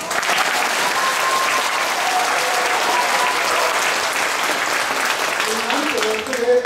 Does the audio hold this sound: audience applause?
yes